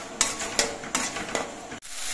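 Spices (cumin powder and dried red chilli powder) with a splash of water are stirred and fried in a pan for Bengali masoor dal tadka: a few short scraping strokes, close and fairly quiet, with a soft sizzle beneath.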